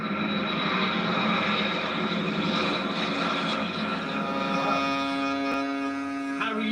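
RAF aircraft fly over in tribute at a D-Day anniversary commemoration in Normandy, France, a sustained droning engine roar that holds steady and fairly loud across the whole stretch, with no speech.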